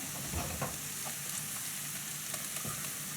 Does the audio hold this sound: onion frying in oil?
yes